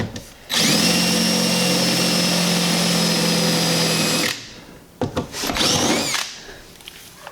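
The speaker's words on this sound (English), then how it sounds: "drilled out. Made some pilot holes." A power drill bores pilot holes in a Miata during a subwoofer install: one loud steady whine of about four seconds, a brief pause, then a shorter burst before stopping.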